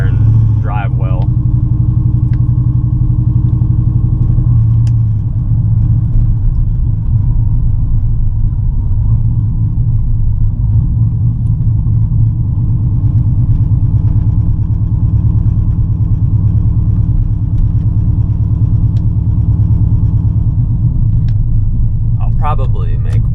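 A GMC truck with a newly installed cam rumbles steadily through a lap, its deep engine drone loud and close throughout, with someone talking over it.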